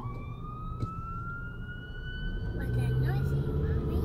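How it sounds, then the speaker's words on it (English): A police siren wails steadily in the distance, its tone slowly rising, while traffic rumbles and people talk nearby. "That's a cop car."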